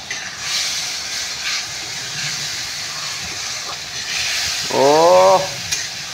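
A ground tomato and onion paste hits a hot pan and sizzles with a steady hiss and stirring, ending in a short scraping clatter near the end.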